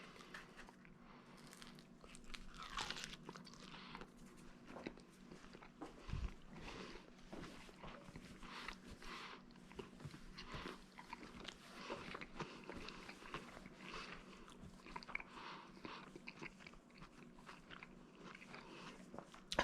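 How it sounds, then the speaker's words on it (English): Close, quiet bites and chewing on a basil and pepperoni pizza with an airy crust made from over-proofed dough, soft crunches and mouth sounds repeating irregularly over a faint background hum. "So let's just get a little bite here."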